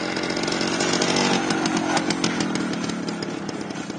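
A motorcycle engine at a figure-riding competition on the motoball field of the Metallurg stadium gives a continuous, loud, raspy buzz. It revs steadily close by with no talk.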